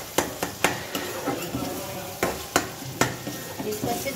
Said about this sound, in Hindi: इसको अच्छे से भून लिया